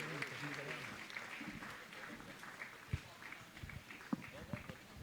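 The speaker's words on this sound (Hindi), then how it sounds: "आपकी तालियां लगातार इनके सम्मान में गूंजती रहें" Audience applause rings out at a Jain religious question-and-answer gathering at Gunayatan, Shikharji, Jharkhand: a dense, steady patter of clapping lasting throughout, with voices murmuring beneath it.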